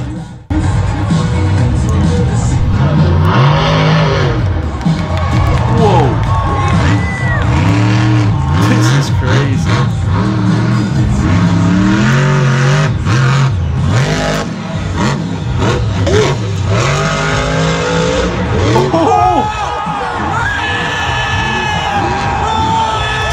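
Monster truck engines roar and rev loudly at a Monster Jam arena show, with surging and falling engine pitch, a cheering, whooping crowd and an announcer's voice mixed in.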